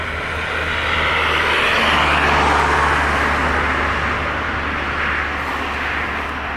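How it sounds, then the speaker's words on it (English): British Airways Embraer jet departing Dublin Airport, a broad steady engine roar that swells and then eases over a few seconds, heard at a moderate distance. "British Airways Embraer off to London City."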